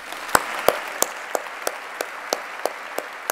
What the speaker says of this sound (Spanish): A vosotros un gran aplauso.